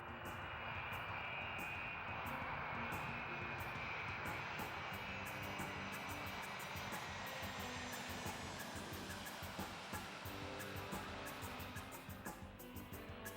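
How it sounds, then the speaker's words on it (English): A four-engine double-decker jet airliner roars steadily nearby, its broad engine rumble and high whine holding loud and constant throughout. "That's a 4-engine double-decker plane."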